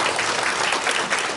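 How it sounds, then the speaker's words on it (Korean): Applause from an audience at a municipal ordinance-making forum in Uiwang, Korea, a steady dense clapping that fills the room evenly for the whole moment with no voices standing out. "네, 큰 박수로."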